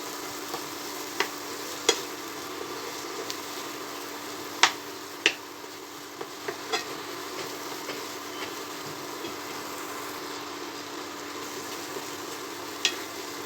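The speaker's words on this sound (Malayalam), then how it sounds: "നല്ല മിക്സ് ചെയ്യാം." Sizzling brinjal gravy in a pan is stirred and mixed, a constant soft fry hiss under scattered sharp spoon taps and scrapes against the pan, with no voices.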